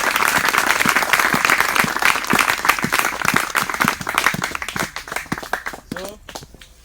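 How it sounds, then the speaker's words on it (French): Congregation clapping at an outdoor mountain sermon, dense sustained applause that thins out and fades over several seconds, close and loud, with a voice briefly heard near the end. "Clap for Jesus. Applaudissez pour Jésus."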